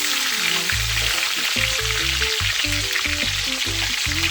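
Turkey wings fry in hot oil in a pot with a constant loud sizzle, while pieces are turned and shifted, bringing a series of dull knocks and scrapes.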